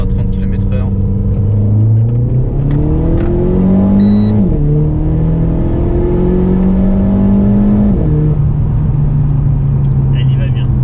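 A tuned Stage 2 Renault Sport Clio 4 RS 1.6-litre engine pulling from low speed in second gear, a loud rising drone that climbs steadily, drops at a shift, then climbs again, with people talking over it inside the car.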